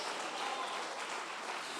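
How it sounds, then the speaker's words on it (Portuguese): A church congregation applauding during a sermon, a soft, even wash of many hands clapping together, heard from a distance and steady throughout the short stretch. "As palmas para Ele,"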